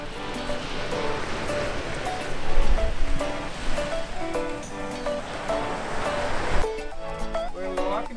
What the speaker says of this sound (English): Walking to the beach. We're at Sandbanks Provincial Park in Burgeo, in Southern Newfoundland.